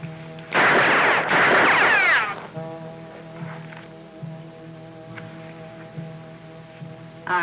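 Gunfire in a sharpshooting scene from a classic TV western: two loud, sharp blasts close together with a noisy ringing tail, then a quieter sustained tonal drone with faint soft sounds over it.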